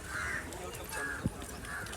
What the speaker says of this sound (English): there are so many crows around here. I cannot tell you, like you can hear them almost everywhere